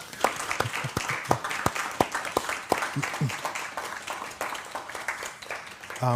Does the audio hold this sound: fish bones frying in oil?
no